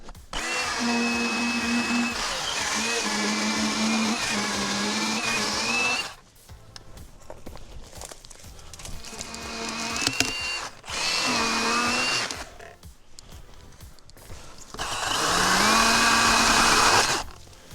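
A Milwaukee M18 cordless chainsaw whines loudly in several bursts, pitch dropping as it bites into a log, with short quieter pauses between cuts.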